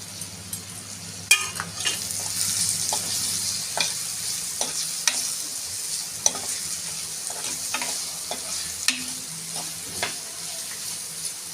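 Tomato dropped into onions frying in a pan for Maharashtrian five-lentil dal tadka, giving a steady soft sizzle with scattered sharp clicks and scrapes of stirring throughout, close and moderately loud.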